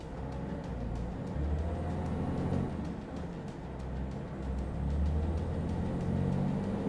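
A Scania truck pulls away from a stop on a test track, its diesel engine a steady low rumble with faint ticking, heard from inside the cab.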